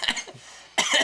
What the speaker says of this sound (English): If I can get rid of this persistent cough